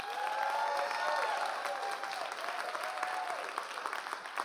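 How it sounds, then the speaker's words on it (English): Sustained crowd applause from parents, teachers and students at a school live-streamed event, a steady wash of many hands clapping with faint cheering, fairly distant and even throughout. "So, one more round of applause."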